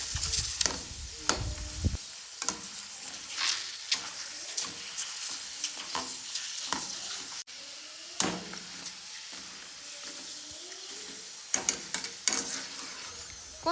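Wheel chips fry in hot oil as they are stirred, producing a bubbling sizzle punctuated by repeated scraping and clinking strokes of a utensil against the pan, close and fairly loud, with no talking.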